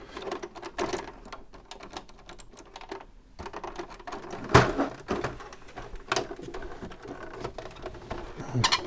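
A cheap colour inkjet printer with a single cartridge for all colours runs with busy mechanical clicking, ticking and short whirring bursts at low to moderate volume.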